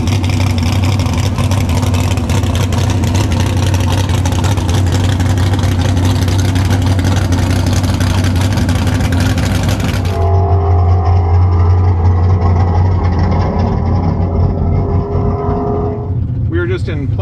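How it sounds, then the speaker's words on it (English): A Tesla Model S Plaid and a nine-second alcohol-fuelled Firebird at a drag-strip roll race, with a loud, steady engine roar and road noise throughout that shifts to a lower whine partway through. "We're lining up with Barry's Firebird. Roll race this time"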